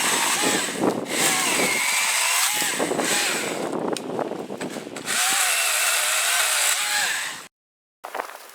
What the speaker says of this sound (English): notice that throttle like a gas saw in between cuts?